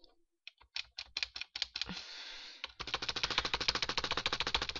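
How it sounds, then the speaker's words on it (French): A computer keyboard is hammered rapidly during Minecraft play, starting with scattered separate clicks, then a brief hiss, then a dense rattling run of fast keystrokes, close and fairly quiet with no voices. "je suis en train de niquer mon clavier pour avancer plus vite"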